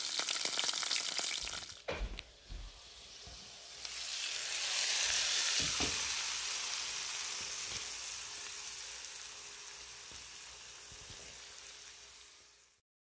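Spices dropped into hot oil for a urad dal tadka, a sharp crackle at first that swells into a loud, steady sizzle and frying hiss, close up and without talk.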